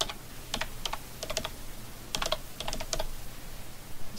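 Keys tapped on a computer keyboard in irregular bursts of quick clicks, close and clear, with no talk.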